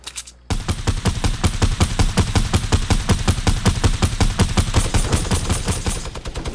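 Rapid automatic gunfire in a Fortnite match, a loud, sustained burst of evenly spaced shots starting abruptly and running nearly nonstop for several seconds.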